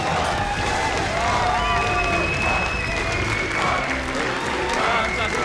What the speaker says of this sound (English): I'll let the crowd sing it for us.